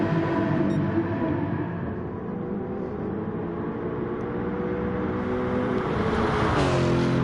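Two Porsche Group 3 race cars battling in Gran Turismo Sport at a German circuit, steady high-revving engine drone with shifting pitch, close and continuous without talk.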